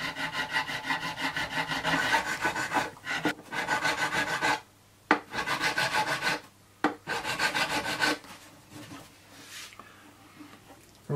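Rasping strokes of a finer file dressing the frets on a tenor guitar during a re-fret, a steady back-and-forth rhythm broken by a few brief pauses, close and clear with no talking.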